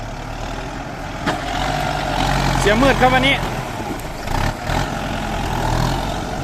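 A Kubota M9540 tractor of 95 horsepower, worked on pushing soil, gives a steady low engine drone and rumble that swells in the middle, heard under someone talking.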